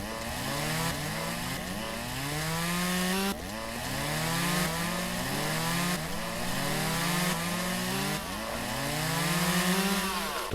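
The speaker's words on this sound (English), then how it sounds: "Don't be running a chainsaw over the rock." In the Lumberjack's Dynasty video game, a chainsaw runs continuously, with its steady buzzing engine rising and falling in repeated pitch sweeps as it cuts. The saw is loud and close, and no one speaks.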